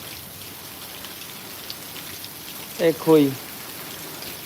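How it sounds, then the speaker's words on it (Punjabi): Heavy rain pours steadily over the village Hiro Kalan in a continuous, even hiss, with a voice speaking briefly near the end. "ਫੁੱਲ ਮੀਂਹ ਪੈ ਰਿਹਾ ਹੈ"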